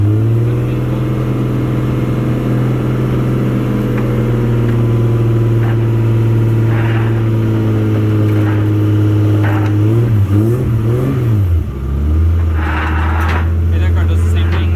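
A car engine runs loudly nearby with a steady hum that wavers and dips as the revs shift, while people talk over it.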